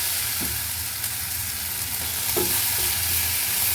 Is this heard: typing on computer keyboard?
no